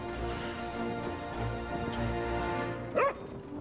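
A cartoonish dog bark in the cooking game Overcooked 2, a single bright yelp near the end over a steady backdrop of game music.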